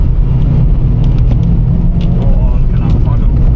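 A Vauxhall Corsa driven hard with the throttle floored gives a steady, loud, low engine drone and rumble that holds evenly throughout, with a faint voice under it.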